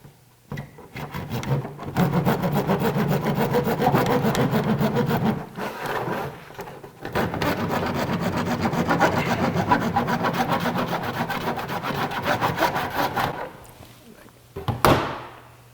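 A wooden piece for a 1/24 scale model is trimmed with a hand saw in long, continuous rasping bursts, close and loud, separated by brief pauses, ending with a short knock.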